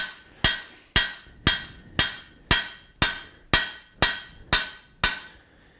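A blacksmith's hammer strikes hot metal while forging a leaf shape, landing eleven sharp, ringing blows in a steady rhythm about two per second, loud and close with no other sound.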